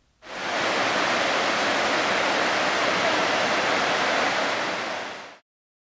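Victoria Falls roars as a dense, steady wall of rushing water, loud and unbroken for about five seconds with no voices over it.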